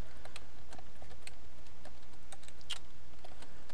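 Fingers tap out a string of quick, uneven clicks on a computer keyboard, close up over a steady low hum of room noise, with no voices.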